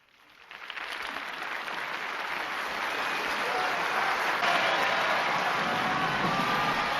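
Audience clapping in Dead Poets Society after a performance of A Midsummer Night's Dream, building quickly into a sustained, dense round of applause from a full house.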